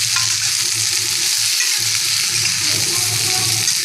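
Pointed gourd pieces stirred and fried in hot oil in a pan, giving a steady, close sizzle with scraping stir strokes throughout.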